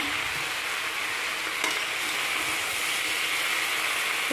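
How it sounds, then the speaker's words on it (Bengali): Chopped eggplant and Malabar spinach leaves fry in a full wok with shrimp and spices, making a dense, even sizzle that stays loud throughout, with a faint knock of stirring. "কেটে রাখা বেগুন আর পুঁই শাকের পাতাগুলো দিয়ে দিলাম।"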